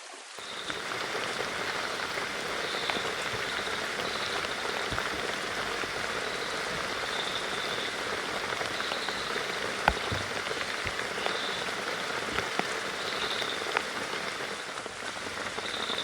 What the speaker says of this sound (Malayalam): മഴ മഴ ഭയങ്കര മഴ.